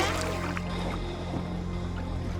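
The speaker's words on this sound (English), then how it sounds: "We just embarked on the kayaks" Kayaks paddle along a Copenhagen canal, soft water swishes and dribbles over a steady low hum of boat or motor noise in the background.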